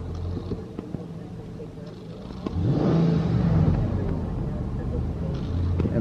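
A 2004 Nissan Armada with a 5.6 engine idling steadily, a low, constant engine hum that swells slightly partway through and stays up, with faint background noise.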